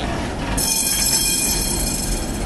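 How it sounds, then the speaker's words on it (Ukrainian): An old tram rolls past close by on a busy city street in Lviv, a steady rumbling roar with high metallic wheel squeal rising partway through. "Їде старенький трамвай"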